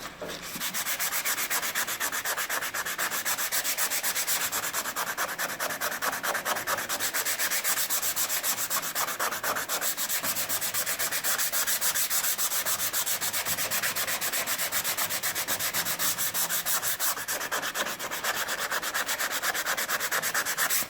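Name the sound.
hand sanding body filler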